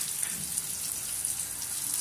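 Chopped onion added to hot oil with cumin seeds sizzles in a pan, a steady soft frying hiss that holds throughout without talk.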